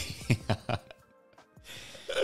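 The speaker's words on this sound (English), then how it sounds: "Oh, jeez, I'm coughing" A person gives a few short throat-clearing coughs close by, three quick bursts followed by a quiet pause and a faint breath.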